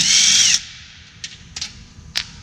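Cordless power drill whirring loudly for about half a second as it backs bolts out of the base of a shipping crate for a DTV shredder, followed by a few brief, faint clicks and taps of hardware.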